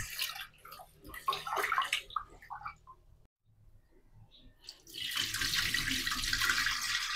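Water running and sloshing while multigrain rice with adlai is washed, splashing and handling sounds with a brief pause, then a steady rush of tap water, a person speaking softly.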